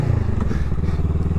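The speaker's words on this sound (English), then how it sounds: "I think the bike's a little loud for her." A motorcycle engine rumbles loud and close, a steady low throbbing idle with slight clatter, continuing without a break.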